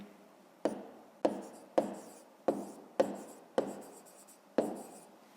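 Pen or chalk writing by hand during a fifth-grade maths exercise: seven distinct scratchy strokes land in an even rhythm, each a sharp onset followed by a short fading scrape, close and clear with no talk.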